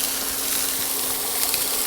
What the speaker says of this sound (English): put some fat in here, melt that down, and then put the onions and celery in here